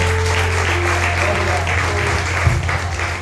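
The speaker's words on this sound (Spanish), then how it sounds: "Un aplauso al Señor, hermanos," Church congregation applauding during a Spanish-language evangelical service, a steady dense wash of clapping filling the room with a low hum underneath, continuous and fairly loud throughout.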